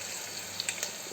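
Cumin seeds dropped into a hot pan give a short bright sizzle with a couple of crisp crackles, close and brief.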